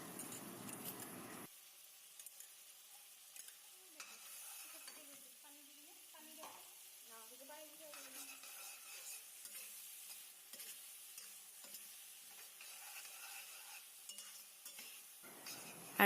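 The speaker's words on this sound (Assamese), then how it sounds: "পিঁয়াজ আদা নহৰু পেষ্ট এটা বনাই ইয়াত দি দিছে আৰু এতিয়া এই গোটেইখিনি অকণমান দেৰি ভাজিব লাগিব" Onion, ginger and garlic paste fries in a pan with a soft, steady sizzle. A utensil stirs through it, scraping and clinking now and then, and the sound stays quiet and close throughout.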